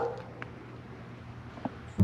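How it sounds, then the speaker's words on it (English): A dog barks outdoors during hoverboard riding practice, faint yips early on and one sharp, loud bark at the very end against steady low background noise. "why are you barking?"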